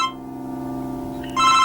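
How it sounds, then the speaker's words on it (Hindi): A telephone rings indoors with a steady electronic tone that swells into a brighter, louder burst near the end, short and close. "उसी का फोन है इस वक्त"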